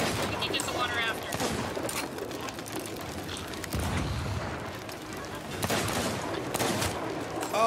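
Rapid bursts of gunfire crackle and pop repeatedly over a busy, noisy background, with scattered louder volleys throughout, in the video game Sea of Thieves.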